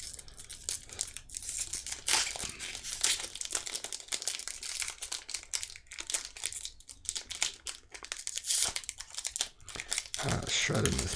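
A Magic: The Gathering Adventures in the Forgotten Realms booster pack is torn and shredded open, with dense, close crinkling and ripping of foil wrapping that continues throughout while a person talks over it.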